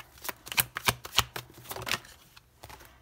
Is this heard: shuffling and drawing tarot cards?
yes